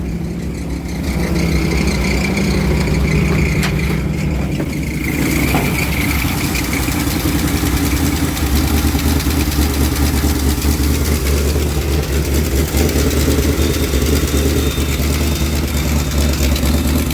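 A 1973 Dodge D200 truck with a 360 engine, automatic transmission and a Thermoquad carburetor that keeps flooding idles loud and close, its rough, steady rumble running throughout with slight fluctuations.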